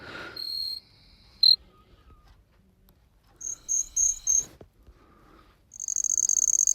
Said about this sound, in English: And then I realized it was one of the jumping bush crickets